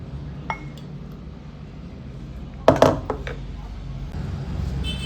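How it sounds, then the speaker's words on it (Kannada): Mango yogurt goes into a glass with a short cluster of clinks as a utensil knocks against the glass, set against low room hum, with a faint clink just before. "ಫಸ್ಟಿಗೆ ಗ್ಲಾಸಿಗೆ ಹಾಕ್ಕೊಳ್ತಾ ಇದ್ದೀನಿ ನಾನು."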